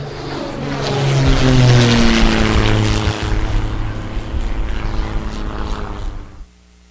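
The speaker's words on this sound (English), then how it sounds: "This is Army bombing plane V-843 off the coast of Bayonne, New Jersey." A propeller-driven army bombing plane drones loudly and steadily overhead as a radio drama effect, off the coast of Bayonne, New Jersey, its engine hum swelling and then cutting off abruptly near the end.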